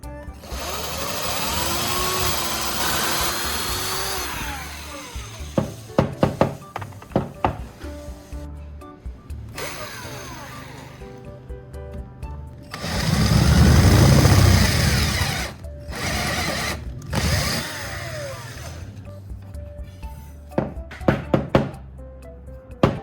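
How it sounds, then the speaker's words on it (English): A power drill boring a hole into a piece of wood, with bursts of motor whine and drilling broken by sharp knocks and handling thuds, loud and close. "I'll drill a hole into this piece of wood."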